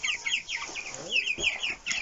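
Hens cluck repeatedly in a village chicken coop in spring, a close series of short, sharp calls in bursts with brief pauses between them.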